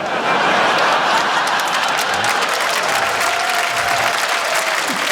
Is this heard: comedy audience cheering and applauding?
yes